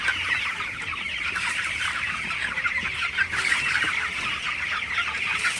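Broiler chickens cluck continuously inside a poultry farm shed in cold winter, a dense, steady chorus of many birds close by, with no talk over it.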